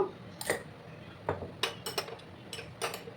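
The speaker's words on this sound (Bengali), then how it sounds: "আমি ততক্ষণে ডিমটাকে ফেটিয়ে নিচ্ছি বন্ধুরা" Two eggs with a little salt are beaten in a bowl, producing a run of quick, irregular utensil clinks and taps against the bowl, close and fairly quiet with no talk.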